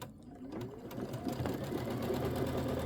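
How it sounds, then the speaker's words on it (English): Embroidery sewing machine stitching a placement line for quilt batting, with steady, fast needle chatter that runs loud and continuous throughout with no talking. "stitch out our placement stitch for our batting"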